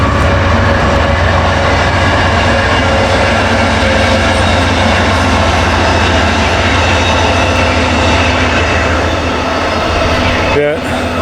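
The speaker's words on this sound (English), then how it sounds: "Oh, there's a train." A train passes near the Potomac River, heard from a boat on choppy, windy water as a steady, loud rumble with rail rattle running throughout, while wind noise and people talking sit over it.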